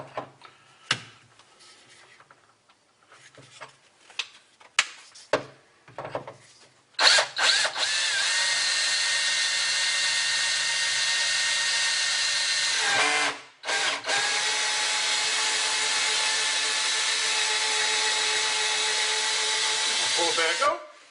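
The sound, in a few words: drill boring through a rock saw part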